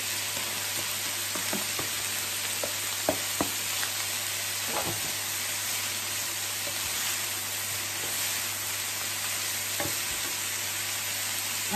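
Garlic cloves, onion and fennel fry in a pan with a steady, broad sizzle close by, broken by a few clicks and scrapes of stirring, with no voices.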